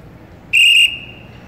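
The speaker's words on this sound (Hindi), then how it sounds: "जब हम सामने की गाड़ी रोकते हैं तो कैसे रोकते हैं? सीटी बजा।" A traffic police officer gives a single sharp, loud blast on a whistle, about a third of a second long, over a low background hum, with a faint tail lingering afterward.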